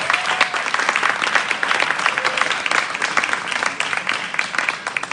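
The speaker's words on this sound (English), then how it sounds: "Give her a round of applause." Audience at a media forum applauds a panelist from South Sudan being introduced, full steady crowd clapping throughout without a break.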